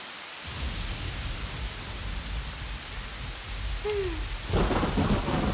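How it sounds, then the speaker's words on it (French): A rain and thunderstorm effect from a children's animated cartoon: a dense, steady downpour hisses throughout, with a loud crack of thunder breaking in near the end. "Je crois qu'il va pleuvoir pendant encore un bon moment."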